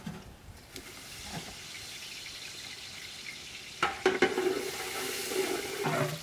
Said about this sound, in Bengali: আমরা ওই ভাতটা ফ্রাই করবো তো, এখন এই মশলাগুলো সব দিয়ে দেবো